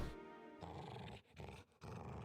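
A dog growls in the video game Final Fantasy VII The First Soldier, a low sustained rumble lasting about two seconds with brief dips, heard alone without talk.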